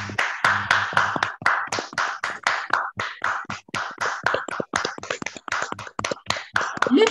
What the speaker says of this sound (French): je vous demande en ce moment d'activer vos micros et de vous applaudir à vous-même très, très fort